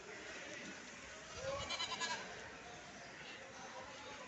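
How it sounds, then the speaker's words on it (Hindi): Goats and their kids bleat a few times at a busy livestock market in Deonar, brief clustered calls midway through a steady crowd murmur, fairly faint and distant. "हाँ, एक ये बकरी, दो बकरी और बच्चे, ये भी देख लो आप, इसके साथ के दो बच्चे हैं।"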